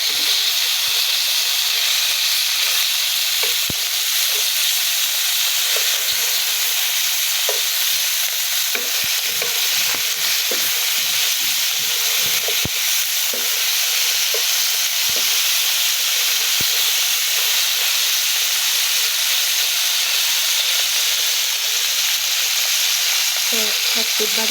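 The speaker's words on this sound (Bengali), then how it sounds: "এখন আরেক পিস ভেজে নেব এটাকে।" Poa fish pieces frying in oil, a loud, dense hiss of sizzling that holds steady from start to finish, close up and uninterrupted.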